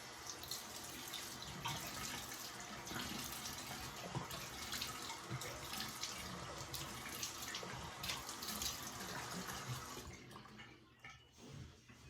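Tap water runs steadily into a sink for a bathroom rinse after a head shave, a broad continuous splashing rush that cuts off near the end, leaving a few drips.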